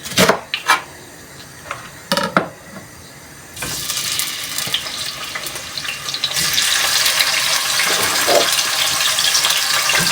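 A loud, steady sizzling hiss of cheese and sauerkraut-filled flatbread frying in a pan without oil builds up and keeps going, preceded by a few scattered clatters and knocks.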